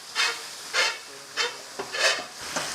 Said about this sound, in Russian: И сейчас пошла рыбка.